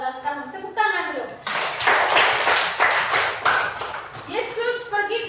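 A group of children claps their hands together in a dense, lively burst lasting a few seconds during a church Bible lesson, with an adult voice speaking just before and after.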